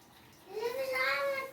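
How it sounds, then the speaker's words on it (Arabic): Boiling water pours from a kettle over a whole chicken in a cooking pot, a short rising gurgle and splash that grows as the pot fills, close by. "هنا معايا ميه مغليه بحطها عليها كده لحد ما بغطي الفرخه"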